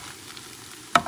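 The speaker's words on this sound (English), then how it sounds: "Stir it." Coconut milk reducing with sticky rice in a pan gives a low, soft sizzle, then one sharp scrape of a spoon stirring near the end.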